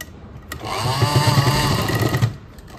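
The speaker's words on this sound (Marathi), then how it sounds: "इथे याला अशी शिलाई मारून घ्यायची." A sewing machine runs steadily for about two seconds, stitching fabric for a Gudi saree. The mechanical whirr is close and fairly loud, with a short click before it starts and no talking.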